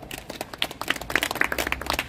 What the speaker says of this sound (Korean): 함께 박수 올려드립시다